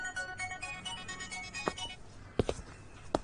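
A phone ringtone chimes in a repeating melodic pattern for a couple of seconds, then stops, followed by a few soft clicks and taps nearby.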